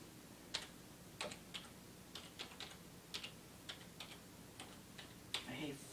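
Someone types on a computer keyboard, a quiet, irregular run of sharp clicks and taps spread over several seconds, with a faint voice briefly in the background near the end.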